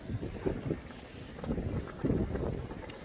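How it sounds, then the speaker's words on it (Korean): Strong, gusty wind buffets the microphone on an open golf course at a bunker, a steady low roar rising and falling in surges with no talking. "바람이 어마어마합니다."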